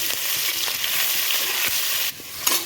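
Chopped onions frying in hot oil in a pan for a Punjabi-style tadka with a pinch of asafoetida, a steady close crackling sizzle broken by scraping stirs, briefly dipping before resuming.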